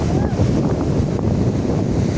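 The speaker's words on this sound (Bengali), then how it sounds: "এই যে দেখেন বিশাল বিশাল ঢেউ।" Big sea waves surge and roll on a rainy, windy day near misty hills, a loud continuous rumbling wash mixed with heavy wind buffeting close to the microphone.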